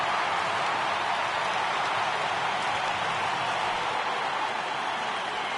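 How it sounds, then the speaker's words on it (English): Steady, dense crowd roar from a stadium audience in the MLB 18 The Show baseball video game, rising for a full count, continuous and loud without breaks. "Crowd gets up for the 3-2."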